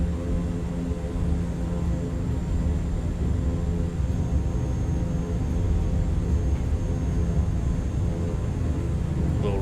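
A Super Scooper amphibious airplane in the flight simulator MSFS 2024, heavy with flaps at 20 degrees, drones steadily on its takeoff run, a loud constant low engine rumble with tonal hum.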